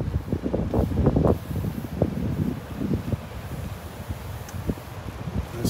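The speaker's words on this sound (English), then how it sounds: "it's a windy, kind of a raw day" Gusty wind on a raw day at Lake Worth Beach, Florida, buffets the microphone in heavy, uneven low rumbles, strongest in the first seconds and then easing to a steadier bluster, with no one speaking.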